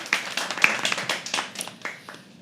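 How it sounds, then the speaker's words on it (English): Light, scattered clapping from a small audience at a live poetry open mic, a few loose bursts of claps that thin out and fade, with no voices over them. "Yeah, you can clap."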